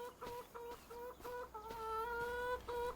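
Chickens in the farming video game Farming Simulator 25 clucking in a coop, a run of short repeated tonal clucks followed by a longer sustained call, fairly quiet and alone.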